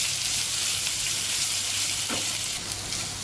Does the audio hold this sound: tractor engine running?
no